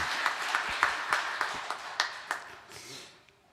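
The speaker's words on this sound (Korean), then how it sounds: "우리 하나님께 큰 영광의 박수 한번 드리겠습니다" A church congregation claps together in a steady, even rhythm for a few seconds during a Sunday service, the claps sharp and close before fading out.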